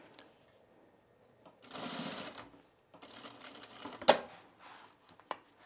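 An industrial sewing machine, foot-pedal controlled, stitches fabric in short separate bursts, with a sustained run in the middle and clicks and a sharp tap between runs, close and moderately loud, no talk.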